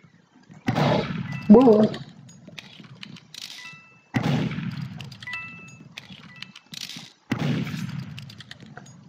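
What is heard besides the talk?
gunshots in the video game Roblox Murder Mystery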